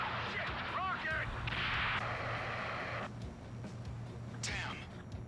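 Rockets and explosions in the Ace Combat 7 video game come as repeated sharp cracks and booming blasts over a low droning hum, with a bright whooshing burst near the end and no talk.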